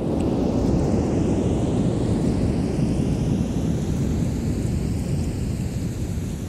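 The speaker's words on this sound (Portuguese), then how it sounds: "Enquanto a gente conversava sobre a seca no Quilombo Cantagalo, a chuva chegou." Heavy rain arrives with rolling thunder over Quilombo Cantagalo in the Amazon, a loud, steady downpour roar with deep rumbling and wind buffeting the microphone, no voices.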